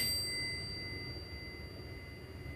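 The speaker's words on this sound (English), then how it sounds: "I love to do a bell" A single bell is struck to open a spiritual session, and its bright, steady tones ring out alone and fade slowly over a couple of seconds.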